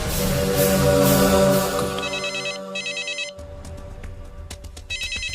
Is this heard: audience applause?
no